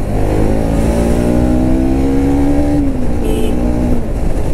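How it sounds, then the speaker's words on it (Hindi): Dense road traffic heard from a motorbike on a dusty, dirt-covered road, with a continuous engine roar and the rising, revving drone of passing vehicles filling the scene, loud and close without any talk. "यार इतना ज्यादा ट्रैफिक यार"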